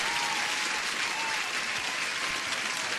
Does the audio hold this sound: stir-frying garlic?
no